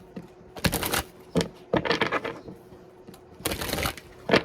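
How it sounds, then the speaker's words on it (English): Playing cards being shuffled back into a deck, in several brisk riffling bursts separated by short pauses, close and fairly loud with no talking. "I'm going to put them all back in and shuffle"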